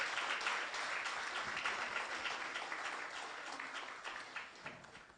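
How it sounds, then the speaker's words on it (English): An audience at an ICAI Oman Chapter event gives a round of applause as speakers come to the stage, a continuous, somewhat distant crowd clapping that slowly fades. "Let's welcome them with a big round of applause."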